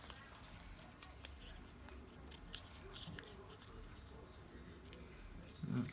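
Scissors cutting a paper piece out for a junk journal: faint, close snipping in short repeated strokes, with a louder rustle at the very end.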